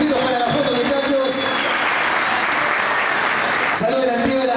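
Applause for young children at a school team's official 2017 jersey presentation, a steady crowd clapping throughout with a voice talking over it near the end.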